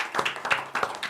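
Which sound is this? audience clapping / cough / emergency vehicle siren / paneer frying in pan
audience clapping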